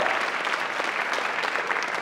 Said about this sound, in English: It doesn't take much to get a round of applause when David Blight is in the room.